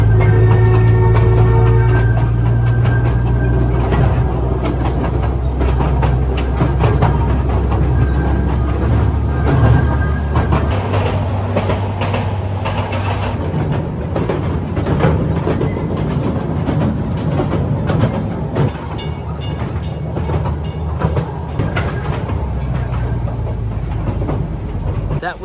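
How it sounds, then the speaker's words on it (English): A free passenger train ride at Port Adelaide, heard from on board as a steady, loud rumble with rhythmic clickety-clack of wheels on rails throughout, and faint talk at moments. "why not hop on board and get a free train ride?"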